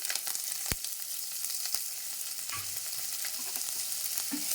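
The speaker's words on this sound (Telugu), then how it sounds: "ఎర్రగడ్డలు లైట్గా ఫ్రై అయితే బాగుంటుంది" Sliced onions, added after mustard seeds and curry leaves, fry in oil in a pan with a steady broadband sizzle, a few sharp crackles and pops and faint clinks scattered through it, no voices.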